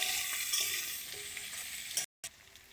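Close, continuous frying hiss of potatoes and onion in a pan as they are stirred, with a brief dropout to silence near the end before the sizzle resumes; no one speaks.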